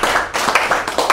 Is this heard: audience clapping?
yes